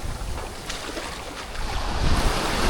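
Ocean waves wash onto the shore at Playa del Carmen, a broad hissing surf with steady wind noise on the microphone that swells louder toward the end.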